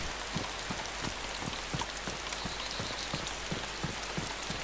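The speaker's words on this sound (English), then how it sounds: "It's a little more believable that there's rain." Rain falls steadily in the video game DayZ, a dense continuous hiss with soft regular pattering beneath, even and unbroken throughout with no talking.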